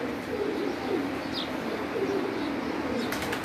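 Pigeons coo softly in low, rolling calls on a rooftop loft, with a few faint chirps and a brief flutter near the end over steady background noise.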